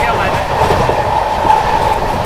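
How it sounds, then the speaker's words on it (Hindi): Loud, steady rumble of the Vikramshila Express overtaking the Patliputra Superfast Express on Indian rails, heard from aboard with a continuous roar and faint wheel clatter throughout. "पाटलिपुत्र सुपरफास्ट एक्सप्रेस को अभी अपनी जस्ट ओवरटेक करा है"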